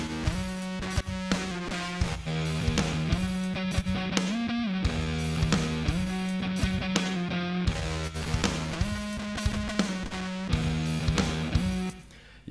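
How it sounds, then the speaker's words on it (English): Distorted electric guitar run through an amp modeller without impulse-response cabinet shaping, playing a dense, sustained riff that stays steady and fairly quiet for about twelve seconds with no one talking. "It just sounds like a so-called proper distorted guitar."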